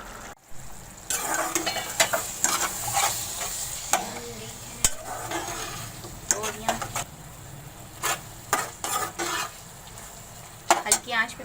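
Tori (ridge gourd) sabzi cooks in a pan on a low flame: a soft sizzle under frequent scraping and clattering bursts of a spoon stirring against the pot.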